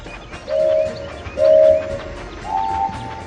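Cartoonish train sounds from a kids' train video game steering through sharp curves: three rising whistle-like tones over a soft rolling background, each swelling in loudness and fading, with no talk.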